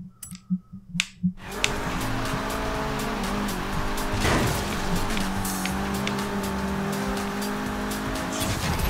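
Engine revving hard as a car accelerates in the Forza Horizon 3 racing game, a loud steady drone with tire noise after a few short clicks at the start.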